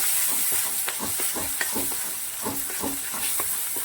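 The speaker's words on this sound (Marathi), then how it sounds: "आता मी टमाटर घालणार आहे टमाटर घालून घ्यायचं आहे आणि मूग लागल्यास मस्त असं परतून घ्यायचं आहे" Tomatoes stirred into a hot pan with browned onions for a hotel-style moong dal, a continuous loud sizzle close up with repeated scraping and stirring strokes, no voices.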